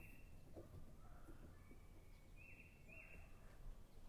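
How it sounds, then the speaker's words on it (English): Birds call out in the open, giving a few thin whistled notes and short chirps at moderate distance over a steady background hum, with one clearer pair of rising whistles near the middle. "Uh-oh, the birds are coming."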